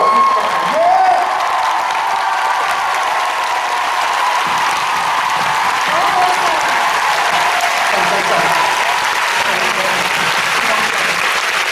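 A concert crowd greets the orchestra and its music director with loud, continuous applause and scattered cheers, a steady roar from start to finish with faint voices mixed in.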